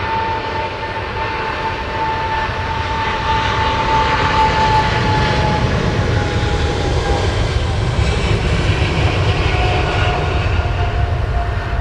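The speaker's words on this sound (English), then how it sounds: "Cargo 777 Emirates." An Emirates Boeing 777 freighter at London Heathrow Airport roars steadily and loudly throughout, a dense jet rumble with a thin whining tone drifting across it, no talk.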